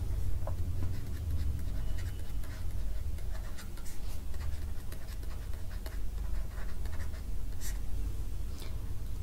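Pen writing on paper during a Hindi-language environment and ecology exam-prep lesson, a steady scratchy scribble of strokes continuing for several seconds, close and fairly quiet, with no talking.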